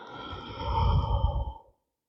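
A single long, breathy exhale during a chair yoga twist and side-stretch sequence, swelling and then fading out after about a second and a half, close and soft with no talk over it.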